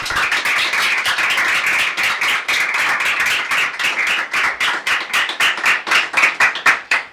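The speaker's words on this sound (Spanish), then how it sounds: "Fuerte aplauso." Live audience at a podcast show recorded in front of a crowd bursts into loud, close applause, a rapid flurry of hand claps that holds strong and then thins into separate claps near the end.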